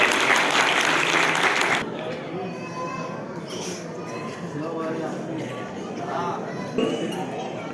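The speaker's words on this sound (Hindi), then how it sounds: "एक बार और तालियां हो जानी चाहिए।" A crowd claps loudly for about two seconds at a community sports prize ceremony, then the applause stops abruptly, leaving a murmuring room with voices and clinking in the background.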